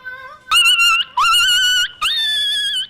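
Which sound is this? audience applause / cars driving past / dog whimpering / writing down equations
dog whimpering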